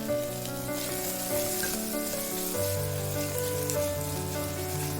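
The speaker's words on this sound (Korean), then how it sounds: "파를 넣고 파기름을 내고 양파를 넣고 볶아줍니다." Onion stir-frying in scallion oil made from plenty of cooking oil, a steady close sizzle and crackle of frying, with kitchen clatter and faint background tones, continuous and alone.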